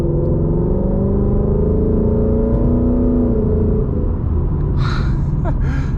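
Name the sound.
2020 Mustang GT with E85 tune accelerating, half throttle pull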